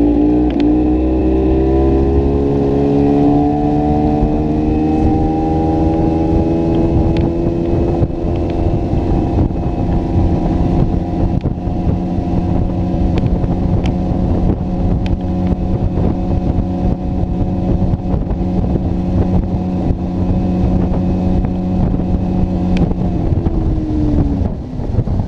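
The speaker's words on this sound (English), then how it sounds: "I'm going to put the boat up on plane" A motorboat engine drones loudly and rises in pitch as the boat speeds up and climbs onto plane, a steady strong roar with wind buffeting throughout, then settling near the end, close and without talk.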